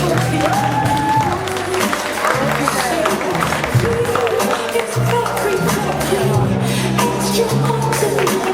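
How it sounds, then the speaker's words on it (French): Audience applause at the Miss Médoc 2013 pageant: a steady wash of clapping from a crowd, fairly loud and continuous throughout, mixed with background music and indistinct voices. "je vous demande de les applaudir très fort"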